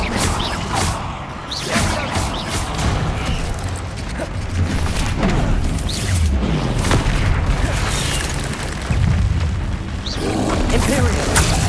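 Bombarda explosion spells in the video game Hogwarts Legacy, loud booming blasts with crashing debris and whooshes during dense combat, repeated over a busy action mix with shouted spell names.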